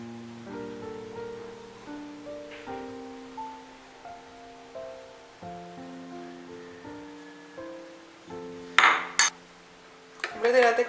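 Spoon clinks briefly and brightly against a cup while a coffee mixture for a homemade cappuccino is stirred, a few quick metallic taps heard over soft melodic music.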